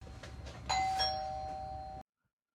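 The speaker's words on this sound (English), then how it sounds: "Oh, I hear the bell." A doorbell rings with one clear, sustained electronic chime that holds steadily for over a second, then cuts off abruptly to silence.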